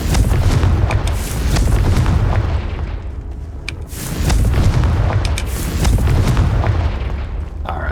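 A Confringo fire spell explodes in Hogwarts Legacy, heavy booming blasts rolling in waves across eight seconds, loud and close, with crackling bursts scattered over a deep rumbling low end and no voices.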